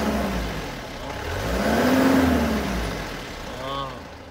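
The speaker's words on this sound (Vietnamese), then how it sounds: "Để tôi hạ tiếng cho anh em nghe tiếng máy luôn nha." A 2018 Isuzu IZ65 3.5-tonne truck engine runs close by, its pitch rising in a slow rev and falling back, with a second short rev near the end, over a low steady drone.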